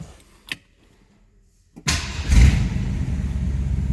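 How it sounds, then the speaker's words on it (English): A 1963 Lincoln Continental is started: a couple of faint clicks, then the engine cranks and catches with a burst, revs briefly and settles into a steady rumbling idle, exhaust in need of some work. "Let's go ahead and start this up so you can hear it run."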